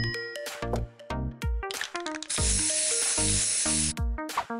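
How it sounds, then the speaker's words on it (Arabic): Aerosol spray paint can hissing in a steady sustained burst for about a second and a half, amid musical background and other short clatters and tones, used while decorating a bedroom wall. "علبة سبراي."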